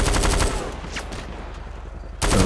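Rapid automatic weapon fire from GTA 5 on PC during a police patrol around Sandy Shores, a loud close burst that drops off quickly and returns near the end, with no talk.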